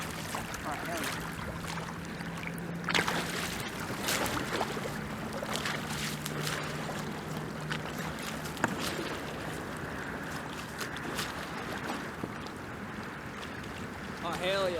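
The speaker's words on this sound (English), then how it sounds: "I'm always finishing with my paddle prying out from underneath the boat" A canoe paddle stroke pries water out from underneath the boat, giving a few splashy, watery pulls over a wind-and-water background, with a voice faintly present.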